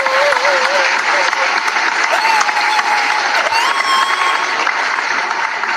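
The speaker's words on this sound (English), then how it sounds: "a big round of applause" An audience gives a big round of applause and some cheers for JT Carter, original founding member of The Crests, at a live show. Dense, steady clapping fills the whole stretch, with a voice carrying over it.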